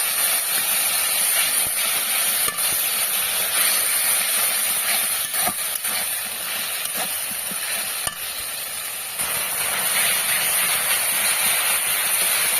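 Chopped green chillies and watery spice paste hit hot oil for a rohu fish curry, giving a steady, close, continuous sizzle with no talk over it.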